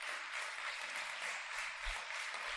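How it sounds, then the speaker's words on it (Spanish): A church congregation applauds steadily during a Spanish-language sermon, a dense, even wash of clapping with no individual claps standing out, fairly faint and continuous throughout. "¿Cuántos le pueden dar un fuerte aplauso al Señor?"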